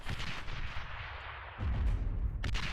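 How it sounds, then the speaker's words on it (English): Artillery fire in the real-time strategy game Beyond All Reason: a burst of heavy booming impacts lands partway through, loud and close, then continues over a rumbling low bed. "That artillery's good though."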